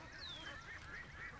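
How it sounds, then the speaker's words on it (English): Little ducks swimming in water give thin, faint calls, including one rising whistle-like note followed by a few softer cries, distant and low against background noise. "We got some confused little ducks that don't want to get out of the water."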